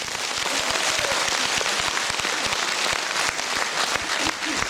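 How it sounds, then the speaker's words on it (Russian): Loud, dense audience applause filling a concert hall at a 25th anniversary concert of the ensemble Zabava, steady clapping throughout with no voices. "это заслуживает громких аплодисментов"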